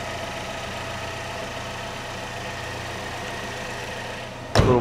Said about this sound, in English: That's exactly what an Equinox should sound like.